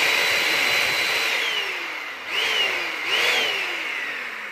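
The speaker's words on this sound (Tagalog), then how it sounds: "gumana na po ang ating vacuum" A repaired vacuum cleaner, fitted with a horn switch, runs with a steady high motor whine that dips in pitch and then rises twice as the load changes, close and moderately loud.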